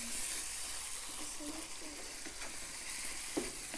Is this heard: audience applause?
no